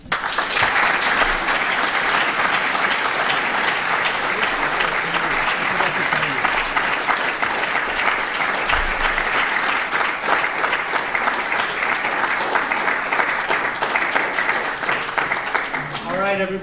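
Sustained loud applause from an audience after a talk on the U.S.-Saudi connection, dense steady clapping filling the room for the whole stretch and fading slightly at the end.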